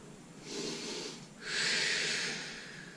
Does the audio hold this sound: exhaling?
yes